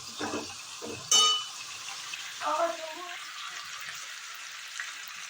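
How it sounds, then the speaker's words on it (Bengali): Soft frying crackle of stuffed dough pastries (pea kachori) in oil in the background, with a few clattering kitchen knocks and a brief clang, no clear talk. "কিছুগুলো তো ভাজা হচ্ছে"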